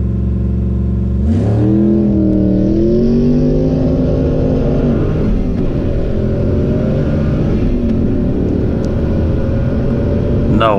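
A drag racing car on big drag radials roars close at the Oamaru Drags, its engine pitch climbing steeply as it accelerates off the line. The roar then settles into a loud, sustained, rumbling drone that fills the clip.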